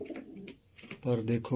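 A large Kasuri golden pigeon in Sialkot coos softly nearby in short murmuring bursts while someone speaks over it.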